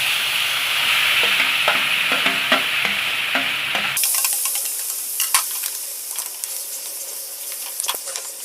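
Spices (red chilli, turmeric, salt) frying in a pan for traditional baingan bharta cooked outdoors on a terrace, a steady loud sizzle with scraping stirs that thins to a softer hiss partway through.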